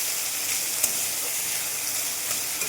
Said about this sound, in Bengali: হালকা করে লো ফ্লেমে ভেজে নিব